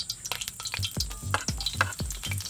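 Garlic sizzles in hot oil for spicy adobo in coconut milk, with rapid rhythmic thumps and scrapes of a spoon stirring close up over the crackle.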